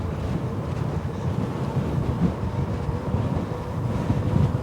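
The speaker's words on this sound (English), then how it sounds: "very, very heavy winds coming in here right now. So you should be hearing a bunch of wind noise" Heavy outdoor wind buffets the microphone in a continuous low, rumbling roar that swells and eases without pause. No voice is heard.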